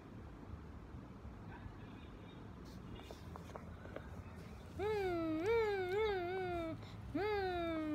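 A pet cat meows twice, a long wavering cry followed by a shorter one, fairly close over a hiss of background noise.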